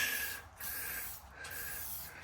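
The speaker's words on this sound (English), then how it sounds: "spray paint" Close, hissing bursts of spray paint from an aerosol can, three long sprays separated by brief pauses.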